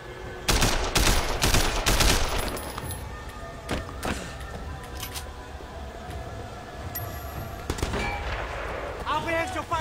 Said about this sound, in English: Who are we even shooting at?